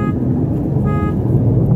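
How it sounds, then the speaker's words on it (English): A parked car's alarm sounds close and loud, a repeating electronic tone over a low rumbling engine and street noise, with no talking. "That's a car alarm."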